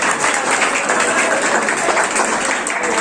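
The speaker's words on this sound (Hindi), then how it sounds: "जोरदार तालियां के लिए" Audience applause at a quiz session, a steady, dense wash of many hands clapping together for about three seconds, fairly loud and close, with no clear talk over it.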